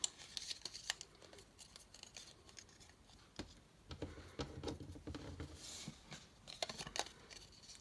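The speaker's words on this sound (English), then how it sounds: "scissors to score our lines" Scissors scoring fold lines on card stock for a card's centre stand mechanism, a close series of quick dry scratches and taps of the blade drawn along the paper, irregular in rhythm and fairly quiet.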